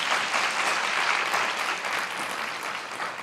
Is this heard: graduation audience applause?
yes